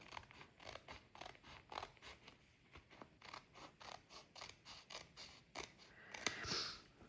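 Scissors trim a paper sticker in a quiet room, making a series of faint, close, rhythmic snips and creaks in a steady cutting pattern, with no talking.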